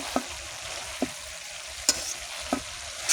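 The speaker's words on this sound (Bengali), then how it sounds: "তো বন্ধুরা ভাজা আমি নেড়ে দিচ্ছি" Spatula scrapes and taps at a slow, uneven pace over a steady close sizzle as mixed five-vegetable sabji fries in soybean oil, with about four distinct strokes and no talking.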